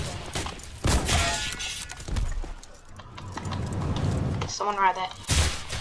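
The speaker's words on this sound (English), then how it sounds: "But there's like mortars or bombs or something." Mortars or bombs going off in the war video game Entrenched, several scattered booms and cracking blasts at varying distances, mixed with gunfire and someone talking briefly.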